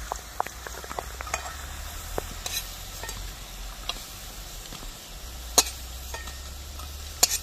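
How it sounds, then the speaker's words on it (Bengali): Pumpkin flower fritters (bora) frying in hot oil make a soft, steady sizzle with occasional sharp pops and light stirring clicks, close and fairly quiet. "বড়াগুলো ভাজা হয়ে গিয়েছে"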